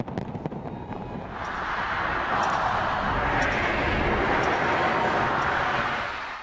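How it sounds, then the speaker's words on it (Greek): New Year fireworks burst over Red Square in Moscow, a dense continuous crackling roar with scattered sharper pops, loud and sustained throughout. "βεγγαλικά και πυροτεχνήματα φώτισαν τον ουρανό πάνω από την κόκκινη πλατεία"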